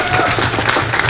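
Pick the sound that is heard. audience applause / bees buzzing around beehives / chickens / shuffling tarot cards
audience applause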